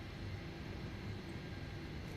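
A Boeing 737 in Microsoft Flight Simulator 2024 at Heathrow gives a steady, low engine drone with a broad cabin rumble, constant and moderately loud.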